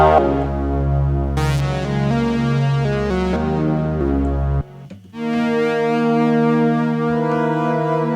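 A Cherry Audio GX-80 software synthesizer, modelled on the CS-80 and GX-1, plays rich sustained harmonic notes. After a brief dip in the sound, a loud new note glides smoothly in pitch and holds, with no voices.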